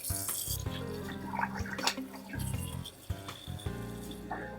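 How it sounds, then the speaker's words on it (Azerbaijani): Hot water runs from a bathroom tap while a face is rinsed before shaving, a steady splashing stream with brief interruptions and changes as hands move through the flow. "tez bir zamanda üzümü isti su ilə yaxalayıb köpüyü üzümə çəkəcək"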